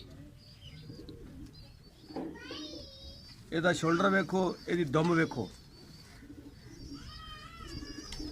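Soft pigeon coos murmur in the background while a person speaks loudly in the middle; the cooing continues faintly before and after the talking.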